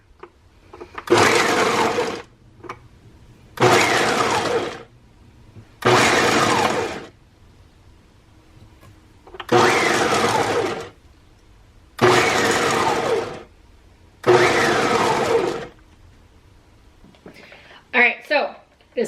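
A multi-setting food processor runs on its chop setting in six loud, roughly two-second pulses separated by short pauses, with brief clatter at the end.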